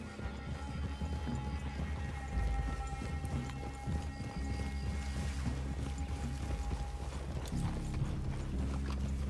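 Horses in the video game Red Dead Redemption 2 walk near a forest clearing, a close, steady clip-clop of hooves with occasional tack rattle and a brief neigh, all fairly quiet.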